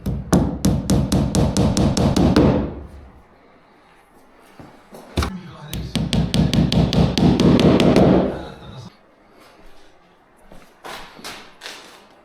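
Hammer blows while navigation lights are being installed: two fast, loud bursts of steady striking, each lasting a few seconds, with scattered lighter taps and knocks in the pauses between and after.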